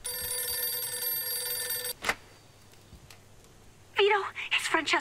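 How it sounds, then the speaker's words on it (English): In Mafia 2, a telephone bell rings clearly for about two seconds, then stops, and faint voices and rustling follow. "Phone's ringing."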